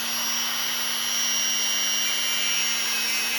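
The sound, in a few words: homemade rotary tool running at 5000 rpm, polishing a knife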